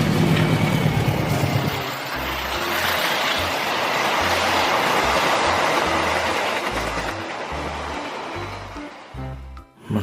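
A video-game train pulling economy carriages, heard as a loud, close, steady rolling rumble with rhythmic low clunks of the wheels throughout and no talk.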